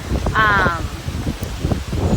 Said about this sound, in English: Oh my gosh, it is so windy.